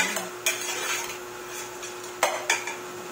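A spoon stirs block beans with pork in a metal cooking pot, with several sharp clanks against the pot's side over a steady background hum, and no one speaking.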